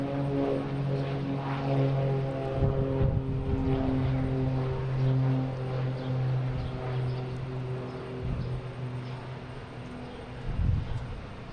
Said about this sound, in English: There's an American 777.